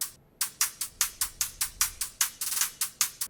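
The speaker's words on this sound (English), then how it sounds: "Hi-hat rhythm with strategic pauses and rolls to keep it fun." Crisp electronic dubstep hi-hats ticking in a quick rhythm, with a brief pause at the start and a fast roll partway through.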